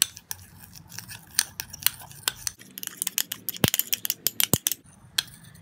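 A homemade skin cream of vitamin E oil and baby powder is mixed in a small bowl: close, quick, irregular clicks and scrapes of a utensil against the bowl, growing denser and sharper midway, with no voices.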